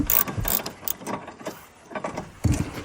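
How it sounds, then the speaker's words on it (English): A long wrench loosening the 17mm caliper bracket bolts on a 2014-2018 Toyota Corolla front brake, with close, loud ratcheting clicks in several short bursts. "I'm going to loosen them with a long wrench first"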